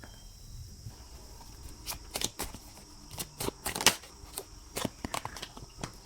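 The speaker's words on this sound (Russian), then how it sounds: "Сейчас еще дотянем карты" Tarot cards drawn from a deck and laid down, a run of sharp, irregular snaps and slides of card stock, close and fairly quiet, with no talking.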